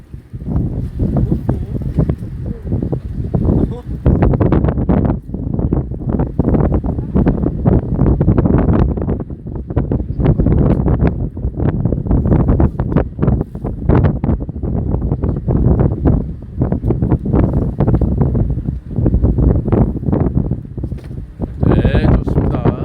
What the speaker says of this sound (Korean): 오늘도 이렇게 바람 부는데